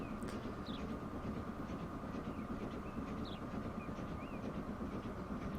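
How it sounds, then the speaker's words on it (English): A train in Transport Fever 2 rumbles steadily with a low rolling rail drone, faint and distant, with occasional small chirps above it and no talking. "Just seen a train taking off there in the distance."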